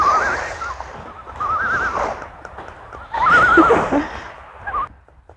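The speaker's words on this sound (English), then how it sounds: "I don't know if you can hear the loons behind me." Loons call at Herring Cove beach on Cape Cod: several wavering, wailing tremolo cries rise and fall in three or four bursts over soft background ambience.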